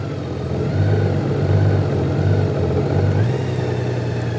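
Low idling rumble of a 2023 Honda Goldwing DCT engine in walking mode, creeping in reverse on a hill with the clutch feathered automatically; a steady, close, moderately loud hum with a slight rise near the end.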